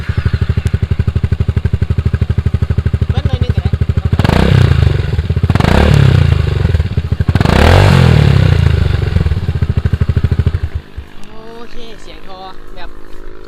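A Honda Forza 350 scooter idles with a rapid, throbbing exhaust beat, then revs hard three times before settling back to a lumpy idle near the microphone.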